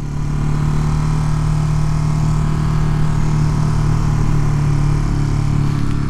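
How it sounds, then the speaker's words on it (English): A 2022 Ducati Monster Plus on its stock exhaust runs at a steady idle close to the microphone, a continuous low throbbing drone with no change in pitch and no voices. "Obviously a stock exhaust,"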